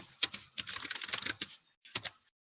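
A password is typed on a computer keyboard, with quick bursts of light, clicky keystrokes, a brief pause and a final short flurry, faint and close.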